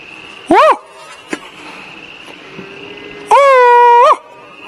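Coyote breeding calls sounded at night to lure coyotes: two loud, wavering howl-like tones, one short near the start and a longer one near the end, with faint background between.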